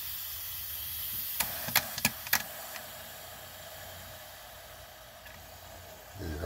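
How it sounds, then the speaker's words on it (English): Steady hiss of an Instant Pot venting steam slowly after a four-minute pressure cook of vegetables, a continuous soft rush with a few sharp clicks near the start, moderately close and alone without talk. "steam releasing slowly there."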